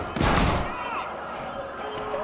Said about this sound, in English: Gunfire, my location!